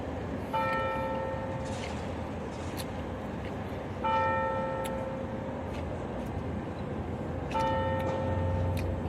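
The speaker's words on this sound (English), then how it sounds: "Church bells are going off." Church bells in Sweden ring out in slow, evenly spaced strikes, three clear tolls about three and a half seconds apart, each ringing on and fading over a soft, steady background hum.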